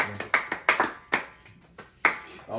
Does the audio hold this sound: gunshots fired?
no